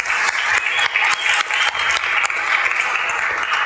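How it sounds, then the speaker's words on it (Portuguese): A church congregation applauds for Renato, a full room of clapping that stays dense and even for a few seconds, fairly loud with no talking over it. "Uma salva de palmas por Renato."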